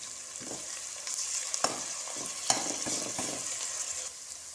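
A pan sizzles steadily as ginger garlic paste fries, with soft scraping stirs and occasional small pops over a constant hiss.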